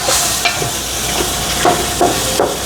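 Shrimp sautéing with masala for biryani gives a fairly loud, close sizzle, punctuated by a handful of sharp taps and scrapes of a spoon against the pan.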